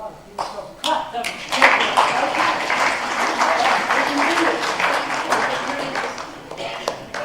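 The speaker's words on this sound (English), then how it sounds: "give yourself a clap" A church group claps for itself, a burst of many hands that swells after a few scattered taps and holds steady for several seconds, near and lively, with some voices under it.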